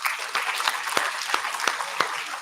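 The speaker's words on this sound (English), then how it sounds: "One more round of applause" Steady round of audience applause at a college induction program session, dense and fairly close, with a few louder individual claps poking through the continuous patter.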